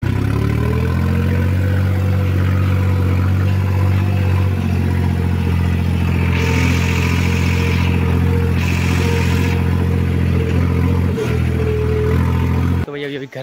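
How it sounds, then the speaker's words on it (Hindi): A tractor engine runs loud and close with a steady low idling drone and clatter throughout, arriving in a rural village setting at night. "अमित भाई आया ट्रैक्टर लेके"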